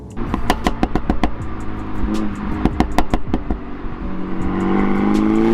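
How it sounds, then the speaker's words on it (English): MINI Cooper JCW Carbon exhaust crackling and popping in a rapid string of sharp bangs as it downshifts with automatic rev matching, then the engine note rises smoothly, loud and close. "I love the exhaust, the valve that gives you the pop-pops."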